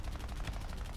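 Bomber gunners fire machine guns in the War Thunder flight game, a dense rapid rattle of shots sustained throughout at steady loudness.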